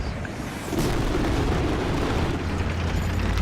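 Explosions and missile fire in the video game Battlefield 3 swell into a loud, sustained rumbling blast that begins softly and holds heavy to the end.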